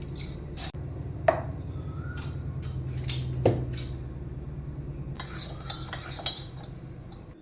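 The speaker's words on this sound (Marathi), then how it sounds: "आता आपण ह्याच्यात साखर घालूयात आणि हे पण मिक्स करून घेऊयात." A spoon stirs sugar into a mixture in a pot for kharwas, making intermittent scraping and clinking strokes over a low steady hum, with a run of quicker metallic taps near the end and no voices.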